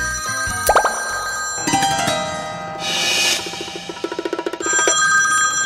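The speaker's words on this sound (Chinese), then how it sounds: "老婆来电话了。" A mobile phone rings with an incoming call, playing a bright melodic ringtone of chiming notes and plucky, plopping tones that repeat in short phrases, clear and alone with no talking.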